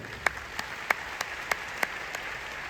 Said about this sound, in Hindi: उनको साथ देने के लिए डॉक्टर S रंजन सर, एक जबरदस्त ताली होनी चाहिए।